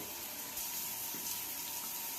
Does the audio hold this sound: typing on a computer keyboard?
no